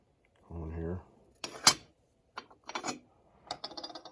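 A washer and nut going onto a Poulan chainsaw muffler: a short low hum, then a bright metallic clink followed by a few small scattered taps and ratchety clicks of hardware, close by.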